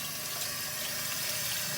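Tap water runs steadily into a sink while a potato is washed, a continuous close rush of water with no voices.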